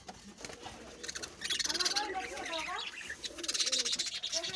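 Pet birds call from close by, a run of chirps and cooing notes rising and falling in bursts over a faint background.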